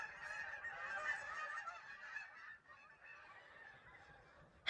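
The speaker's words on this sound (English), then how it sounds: "the geese." A flock of geese honking, a dense overlapping chorus of calls that stays fairly steady, then thins and fades slightly toward the end; no talking.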